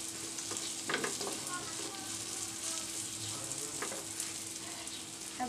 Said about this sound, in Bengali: এবার তেলের মধ্যে নেড়ে চেড়ে, এই তো আমার তিত করলাগুলো ভাজা হয়ে গেছে।